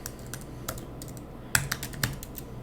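A computer keyboard is typed on in a quick burst of close keystrokes, with a few sharper, louder key hits near the end.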